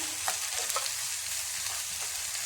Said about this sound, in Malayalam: ഒരു കാൽ സ്പൂൺ ഉപ്പുപൊടി കൂടി ചേർത്ത് നമുക്കിതൊന്ന് ഫ്രൈ ആക്കി എടുക്കാം